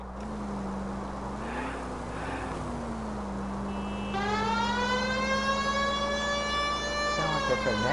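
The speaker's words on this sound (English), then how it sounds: "Sound like a tornado siren." In the video game L.A. Noire, a steady engine drone runs throughout, then a rising multi-toned siren like a tornado siren wails in over it, sustained and fairly loud.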